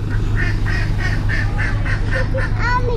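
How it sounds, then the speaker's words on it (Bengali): Ducks quack in a steady rhythmic series of about a dozen calls at a rural Bangladeshi waterside, loud and fairly close, over a constant low engine-like hum. "আসে হাঁস দেখো। ওটা কি? হাঁস?"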